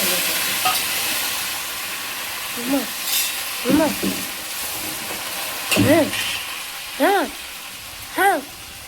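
Tempering spices, chillies, lentils and curry leaves fry in oil with a soft background sizzle, while a person talks intermittently over it.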